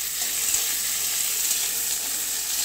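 Tomato frying in a pan with spice paste and salt for a vegetarian dalna, a steady close hiss of sizzling oil throughout with no talk.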